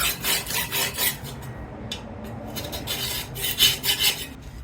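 Metal scraper rasping across a Pit Boss Lexington 500 Onyx pellet grill sear plate, rhythmic back-and-forth scraping strokes in close bursts with brief pauses.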